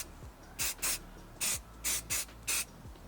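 Spray primer hisses onto a Warhammer miniature in six short, loud bursts at an even rhythm, each separated by a brief pause and a faint click from the can.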